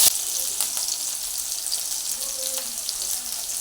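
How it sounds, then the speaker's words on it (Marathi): Chopped green chilies dropped into hot oil, a sharp burst of sizzling at the start that settles into a steady, fairly loud frying hiss with faint occasional stirring. "मिरच्या चिरलेल्या ह्याच्यात टाकून घेऊया."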